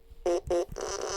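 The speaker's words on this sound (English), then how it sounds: "You can hear the farts. The farts are prevalent in the background." Fart sounds in the background of a song: three loud, buzzy, sputtering blasts in quick succession, the last one drawn out, with no talk.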